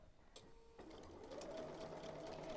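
A sewing machine stitching across fabric seams, a quiet steady mechanical whir that starts after a brief pause and runs continuously at an even pace.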